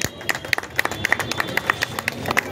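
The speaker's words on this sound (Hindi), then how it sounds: "जोरदार ताली।" Scattered clapping rings out from the audience at a community honouring ceremony for a wheelchair donation, a run of sharp, uneven claps close by that comes in bursts without a steady rhythm.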